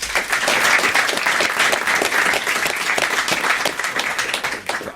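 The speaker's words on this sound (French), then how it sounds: "Bisous, on vous applaudit." A TV studio audience applauds in a steady, full burst of dense clapping that holds throughout and fades slightly at the end.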